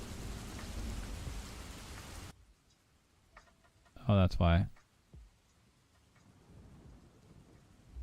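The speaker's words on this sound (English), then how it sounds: "Is the rain a little loud? My goodness. Where'd that rain come from?" Heavy rain and low thunder rumble steadily outside for the first two seconds, loud and broad, then cut away; afterward a voice speaks briefly over quiet room tone.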